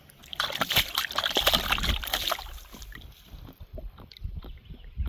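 Water gurgles and sloshes as it flows from a bucket into a homemade gravity-fed chicken waterer, with close splashy bursts that settle into quieter intermittent trickles.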